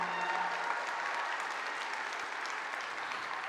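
An audience at a convention general session applauds for the composer of wiggle music, with steady, dense clapping that fills the hall evenly from start to finish.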